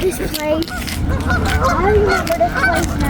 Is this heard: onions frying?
no